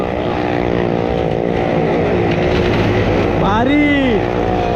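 Car and motorbike engines roaring inside a well of death show at a crowded Worli festival, a loud continuous engine drone with a rising and falling whine near the end, heavy crowd noise mixed in.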